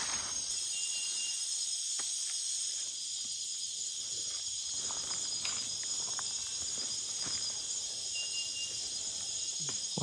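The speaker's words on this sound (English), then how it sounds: "Cricket. Big cricket." A big cricket chirping at night in the Amazon rainforest, a steady, loud, high insect drone that runs throughout, with scattered soft taps and rustles beneath it.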